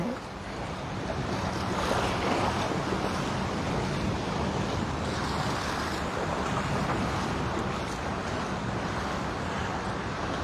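Choppy ocean surf rolls in at Waikiki Beach, a continuous wash of breaking waves mixed with wind buffeting, loud and steady for the whole stretch.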